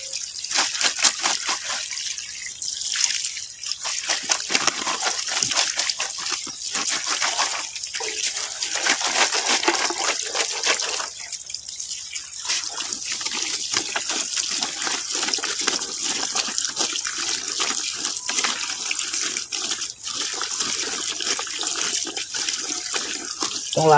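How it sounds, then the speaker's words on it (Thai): Freshly dug water chestnut tubers are washed clean of soil in water, a constant loud splashing and rushing with irregular sloshes and drips that continues for the whole stretch with no talking. "อันนี้เราก็จะมาล้างน้ำให้สะอาด เราต้องคัดล้างเอาดินมันออกให้หมด"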